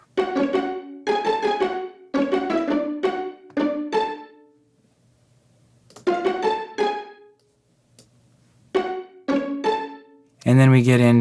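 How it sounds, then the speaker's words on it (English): Plucked pizzicato strings from a string section in a produced music track play in short rhythmic bursts of bright notes separated by brief gaps, ending on a louder, fuller chord. "The pizzicato in the straight section sounds like this."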